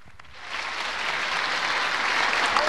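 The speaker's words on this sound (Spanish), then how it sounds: "un aplauso por favor." Audience applause fills a school inauguration ceremony in Tarija, Bolivia, a dense steady clapping from a large crowd of students that builds slightly and holds loud throughout, with no speech over it.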